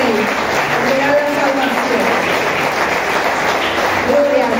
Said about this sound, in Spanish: Fuerte las palmas para el Rey.